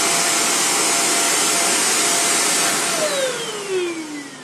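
A Dirt Devil 360° Reach Pro bagless stick vacuum runs with a loud, steady whirring roar close by, then its motor winds down, the pitch sliding lower as the sound fades near the end.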